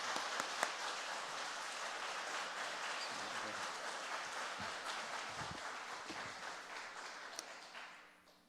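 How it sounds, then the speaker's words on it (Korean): A church congregation applauding warmly to welcome a guest pastor at a Sunday afternoon healing festival service, a broad, sustained wash of many hands clapping that fades out at the end. "우리 목사님을 환영하는 마음으로 뜨거운 박수로 모시겠습니다."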